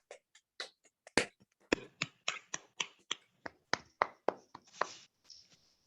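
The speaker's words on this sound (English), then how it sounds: "give the speaker a round of applause" Sparse, uneven claps from a handful of participants in an online mathematics seminar, scattered single hand claps building to a ragged patter for several seconds and then trailing off, without any talk.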